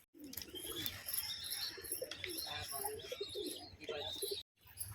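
Pigeons coo steadily in a loft housing racer and other fancy breeds, soft throaty calls overlapping with chirps and faint wing movement throughout, close by, with a brief drop-out near the end.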